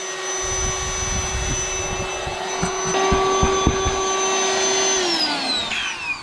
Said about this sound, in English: All right, got that one pumped up.